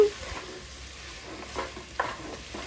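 Masala powder and chopped tomato fry in hot oil while being stirred, giving a low, steady sizzle with a few soft scrapes and taps of a spoon against the pan.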